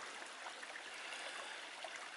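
Small brook flowing out of a hillside at its source: a faint, steady wash of trickling water, continuous and even, heard from a short distance with no voices.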